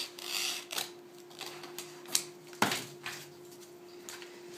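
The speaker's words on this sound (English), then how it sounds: "Now what I tend to do is just trim these edges off nice and tidily" Scissors or a blade trimming the edges of a printed canvas being mounted onto stretcher bars, heard as scattered rasping snips and rubs with a sharper crunch midway, close and fairly quiet over a steady low hum.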